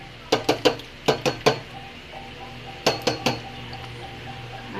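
A spoon stirring maja blanca mixture in a pot knocks against the metal in three quick bursts of bright clinks, close and loud, with quiet gaps between and no talking.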